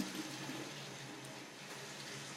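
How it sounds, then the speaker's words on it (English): Tap water runs steadily while hands are rinsed from fingertips up to the elbows, a continuous even hiss with no talking. "we can turn the water off"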